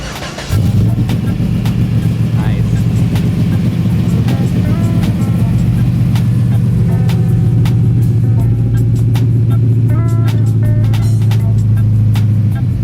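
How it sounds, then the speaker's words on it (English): A car fitted with an LS V8, named LSR32, starts up and settles into a loud, steady rumbling idle with a few rev blips, close to the microphone. A voice is faintly audible briefly under the engine. "I'm gonna start up the LS here"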